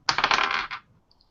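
Dice rattle and tumble across a table during a steampunk Dungeons & Dragons 5E session, a quick clattering roll lasting under a second, close and clear, followed by a tiny faint click.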